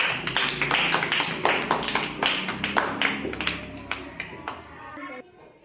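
A group of children clapping in a classroom Telugu lesson activity, a quick, fairly loud burst of many sharp, irregular claps that thins out toward the end before stopping abruptly.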